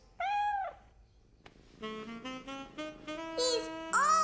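A cartoon kitten meows in a children's animated show, one clear meow followed by a string of higher repeated meows, close and fairly loud.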